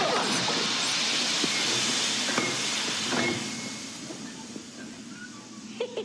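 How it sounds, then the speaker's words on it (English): Steam hisses loudly and steadily through a sewer fight scene in a TMNT movie, with faint clanks and knocks, before easing to a quieter hiss. "That's the sewer fight. I recognize the steam gives it away."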